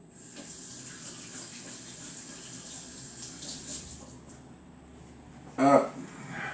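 Vegetable broth pours into a courgette and bacon risotto in a pan, a steady liquid trickle and bubbling running throughout, ending in a brief louder splash near the close; a faint voice is heard briefly.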